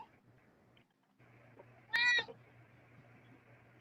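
A pet cat gives a single short, clear meow close by, surrounded by a quiet indoor room with a low steady hum.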